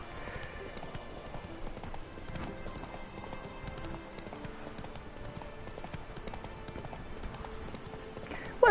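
Roach, Geralt's horse in The Witcher 3: Wild Hunt, trots with a steady clip-clop of hooves and a faint whinny over a soft game backdrop, continuing throughout at a moderate distance.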